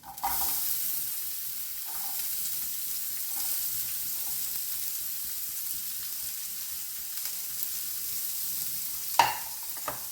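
Onion and garlic sautéing in a pan while being stirred, a steady close sizzle throughout with a few soft scraping stir strokes and a sharper clack near the end.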